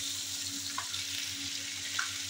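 Minced keema frying in a pan gives a steady close sizzle throughout, with a couple of faint scraping stirs and no talking.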